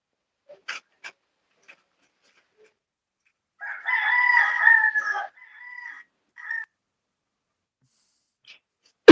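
A rooster crows once in the middle, a clear mid-distance cock-a-doodle-doo, with a few sharp clicks and knocks before it, a short trailing cluck after, and a loud bump at the very end.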